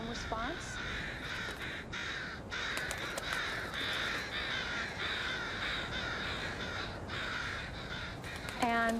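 Many crows caw loudly and continuously in alarm over a dead crow, a dense overlapping chorus of harsh calls with steady background noise, close and sustained throughout.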